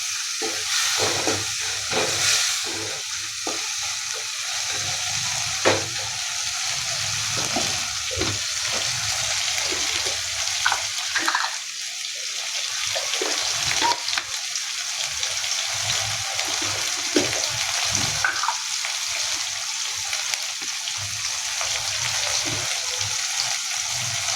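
Tomatoes and green chillies with garlic fry in a pan with a constant, even sizzle and scattered crackles and pops, heard close up without speech.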